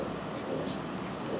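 A Jinhao 9056 fountain pen with a fine nib writing in royal blue ink on paper, a soft continuous scratchy rustle of nib strokes, close and quiet, with faint breathy sounds.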